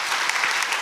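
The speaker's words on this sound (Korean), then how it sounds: "우리 박수로 환영하도록 하겠습니다" A church congregation applauds, a dense steady patter of many hands clapping that fills the whole brief moment with no pauses.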